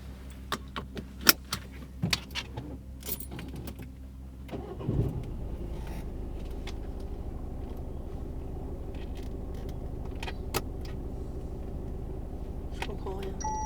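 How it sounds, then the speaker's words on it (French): A car engine cranks and catches after keys jangle and click in the ignition, then settles into a steady idle that drones on under quiet conversation in the car. "Faut allumer la voiture."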